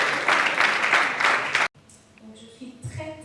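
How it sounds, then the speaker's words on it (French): An audience at the Nzonzing Awards 2022 ceremony applauds Linda with a loud burst of clapping that stops abruptly after about a second and a half, followed by quieter speech. "Est-ce qu'on peut applaudir bien fort pour Linda?"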